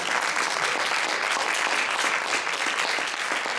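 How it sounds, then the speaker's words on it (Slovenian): A large audience at a solo and duet dance competition gives loud, sustained applause for the performers, with thick, even clapping that fills the hall and no speech over it. "Dajmo še en velik aplavz za vse ustvarjalke in ustvarjalce."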